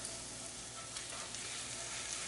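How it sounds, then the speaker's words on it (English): Garlic and shallots sweat in butter in a pan, giving a steady close, soft sizzle and fry hiss with faint crackles throughout and no talking. "Just sweating the garlic and the shallots."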